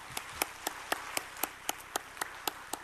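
A church congregation at a Lenten dawn prayer meeting claps faintly in a steady, even beat, about eleven distinct claps spaced at regular intervals over a quiet room.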